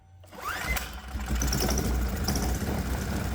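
A 212 cc Predator small engine fitted with port fuel injection starts on one pull: a brief pull-cord whir, then the engine catches and settles into a loud, steady, rapid chugging idle.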